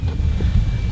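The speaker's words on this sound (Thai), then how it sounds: "ผมได้ยินแต่เสียงลม" Wind buffets the microphone on a large river raft, a loud, gusty low rumble close up that fills the brief moment without any voices.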